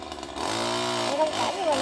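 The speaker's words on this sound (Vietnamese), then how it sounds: "Đó, đang cưa trời ơi. Để cưa nha các bạn." Chainsaw running steadily while cutting thick tree branches during storm-season tree felling, a loud continuous engine drone with shifting pitch and no pauses.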